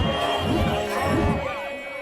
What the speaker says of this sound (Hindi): बाजार में रोज से ज्यादा भीड़ थी।